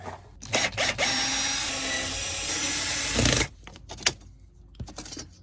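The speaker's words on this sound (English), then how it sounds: "I'm gonna get my drill to do that." A power drill whirs steadily for a few seconds, close and loud, with short clicks and handling noises before and after.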